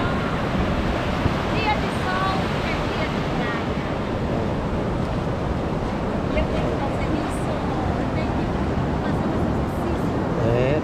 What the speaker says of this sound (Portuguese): Olha como é que tá a praia. Praia de Sabaléia.